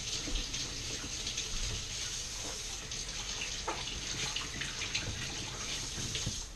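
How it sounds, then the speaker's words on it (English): Steady tap water runs continuously into a kitchen sink as a knife is rinsed during fish and chips preparation, a close, even rush with no voices. "I'm going to clean off my knife, preferably without cutting myself"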